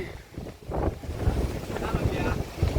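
Sea waves washing in on the Konkan coast near Redi, heard through gusty wind buffeting the microphone, a rolling surging rumble with a voice briefly audible.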